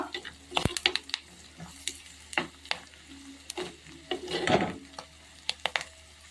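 A spoon or spatula stirs turmeric powder into a hot pan for fish curry, giving a series of sharp scraping strokes over a soft, steady sizzle. No one speaks.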